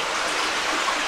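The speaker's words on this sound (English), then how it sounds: "Someone built a little dam right there, kind of back the water up." Water rushing steadily through an abandoned culvert tunnel in a Pennsylvania creek park, pooled behind a small built-up dam; a continuous, even broadband flow close by with no voices.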